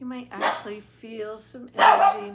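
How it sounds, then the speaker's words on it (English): A pet dog barks a few times nearby in an indoor room, the bright bursts louder than and partly overlapping a calm person speaking. "Yes, that's my dog"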